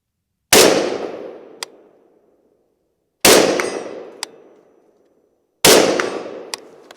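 Three sharp, loud gunshots from a Microtech MSAR rifle, spaced a few seconds apart, each with a long ringing decay and a faint metallic clink afterward, with no talking.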